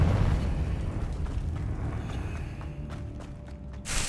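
A Confringo blasting spell erupts in Hogwarts Legacy with a low, rumbling roar that swells early and then fades into crackling debris and a faint tone, a brief sharp hiss closing it out, no voices.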